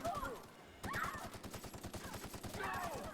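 Rapid gunfire bursts in The Outer Worlds, a sci-fi shooter video game, with repeated shots and overlapping effects filling the clip, joined by a brief pause near the start, under faint talk.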